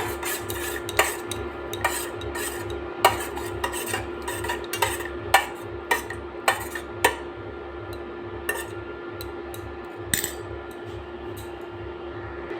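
A metal spoon stirring honey into blue tea clinks repeatedly against the cup in quick, irregular taps over a low steady hum, near and clear, tapering off toward the end.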